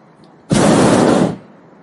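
Hot air balloon burner firing during a landing approach, one loud close roaring blast of flame that runs just under a second and then cuts off.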